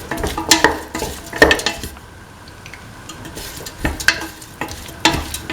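Beef, green peas and coconut milk stirred and scraped in a sizzling pan, with bursts of spoon scraping and clinking against the pot separated by a brief quieter pause, no talking.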